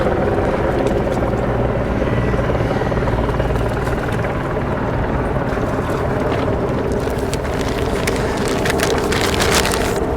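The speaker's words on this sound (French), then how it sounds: "Alors que tourne un des deux hélicoptères qui retransmettent cette régate pour les chaînes de télévision." A television helicopter circles over a sailing regatta, its steady rotor and engine roar filling the scene along with wind buffeting the microphone, continuous and fairly loud throughout.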